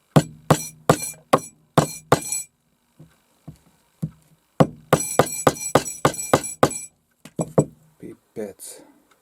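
A hammer strikes repeatedly in a taiga setting, sharp ringing metallic blows coming in quick clustered bursts separated by short pauses, some hits louder and closer than others.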